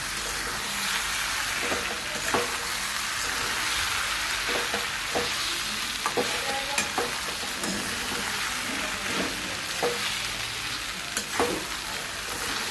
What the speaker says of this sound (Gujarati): બધી વસ્તુ આપણે સરસ આપણે મિક્સ કરી લઈએ.